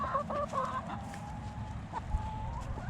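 Friendly backyard chickens clucking softly and repeatedly at close range, a few short tonal clucks over a steady low background rumble with no talking.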